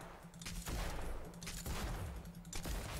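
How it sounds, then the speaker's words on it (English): Ana firing in rapid succession in Heroes of the Storm, a fast series of punchy gunfire bursts in repeated volleys with low thumping body, steady and fairly quiet, no talk over it. "How fast can you shoot in rapid succession?"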